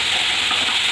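Fish sizzles in hot oil in a pan, a steady bright crackling hiss heard close up with no talk.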